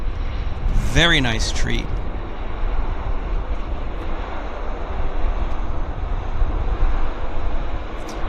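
Airliner noise at Vancouver Airport, with a steady broad rumble of engines and wind around an Air Canada Rouge jet, loud and continuous, while a person speaks briefly near the start.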